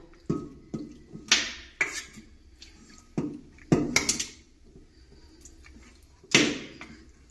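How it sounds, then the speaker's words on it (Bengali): Chunks of marinated mutton drop into a pressure cooker with a series of sharp, separate clanks and wet thuds against the metal pot, about eight distinct hits spread irregularly with quiet gaps between. "ম্যারিনেট করা মাংসটা এবারে কুকারের মধ্যে দিয়ে দেবো।"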